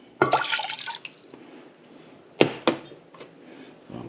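White wine vinegar splashes into a pot as pickling brine is made, a brief liquid pour at the start, then a couple of sharp clunks and a softer knock, quiet and close.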